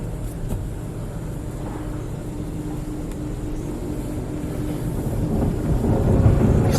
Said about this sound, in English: These brushes aren't spinning too fast.